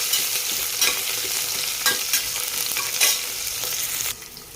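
Curry leaves, garlic, ginger, green chilli, cumin and mustard seeds tempering in hot oil, a bright close sizzle with several sharp bursts of spluttering and stirring before it quiets at the end.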